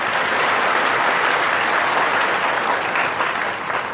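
Dense, sustained applause from an audience at a Hindi spiritual discourse fills the clip, loud and steady throughout with no pauses.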